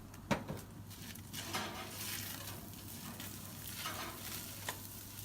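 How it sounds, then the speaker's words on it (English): A spoon stirs lamb with ground rosemary and garlic in a Dutch oven, the meat sizzling and frying softly while the spoon scrapes and clinks against the pot in irregular strokes, with no talking. "Now I can add my grounded rosemary and my garlic. Use the spoon."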